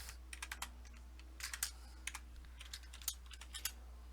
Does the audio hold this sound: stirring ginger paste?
no